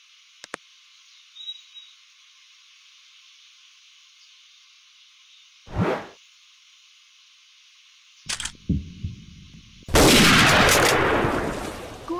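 A hunting gunshot rings out as a sharp, loud broadband blast with a decaying tail, preceded by a few scattered brief knocks and thumps over a steady high-pitched background hiss of insects or wind.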